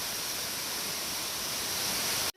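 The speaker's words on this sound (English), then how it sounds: "This is a 200-foot waterfall." A 200-foot waterfall on the Virginia Appalachian Trail roars as a constant, dense, loud rush of falling water, steady throughout and cutting off abruptly at the end.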